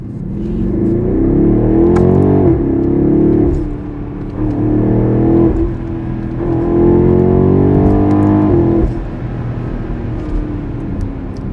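A BMW X6 M50i V8 accelerates hard in a series of rising engine and exhaust pulls, each swelling into a deep, loud roar, with short drops between shifts and a rumbling settle at the end.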